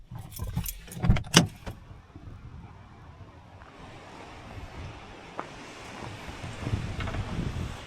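Gusts of wind buffet the microphone at a lake in Waterton, building into a steady rushing roar in the second half, after a few brief metallic jingles near the start.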